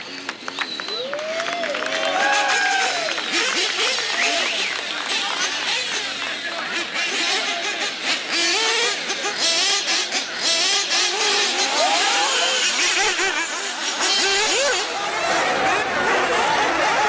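Several RC race cars fire up their engines at once, a dense layered buzz and whine with rising revs, mixed with crowd chatter and scattered voices nearby.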